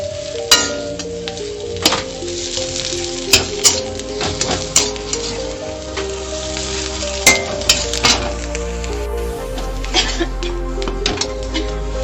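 Mustard oil sizzles steadily in a pan as yardlong bean mash (borboti bhorta) fries, with repeated sharp clinks of a spatula against the pan throughout.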